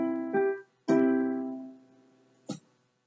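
Piano-like tones forming a three-note triad built on middle C, sounded as a few separate attacks that ring and decay, alone and fairly quiet.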